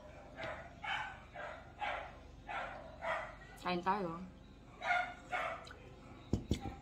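Several dogs bark in repeated bursts from a moderate distance, while a person speaks briefly partway through, followed by a few sharp clicks.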